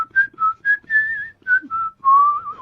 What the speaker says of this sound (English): you don't whistle when yeah. you're sad